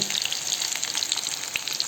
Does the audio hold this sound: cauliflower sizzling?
yes